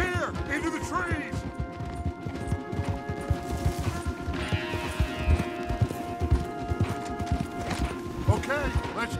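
Rapid, dense hoofbeats clatter continuously, like horses galloping over hard ground, with a whinny and voices mixed in.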